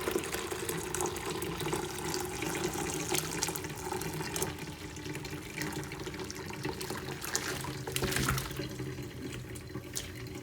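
Avocado and coffee dye liquid pours and drains into a bowl in a kitchen sink, a continuous loud splashing, gurgling rush of water lasting throughout with no voices.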